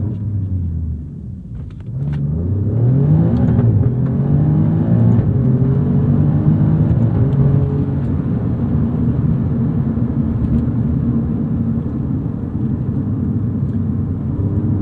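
A 2018 Alfa Romeo Giulia Quadrifoglio engine rumbles and then climbs in pitch as it accelerates hard, a loud, close drone that holds strong to the end.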